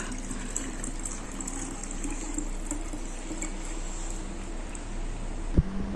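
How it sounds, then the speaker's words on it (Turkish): Liquid cola gelatin mixture poured steadily into a container, a continuous close watery gush and trickle lasting several seconds, ending with a small knock. "Tamam dökmeye devam edelim."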